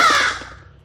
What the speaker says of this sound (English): The crows.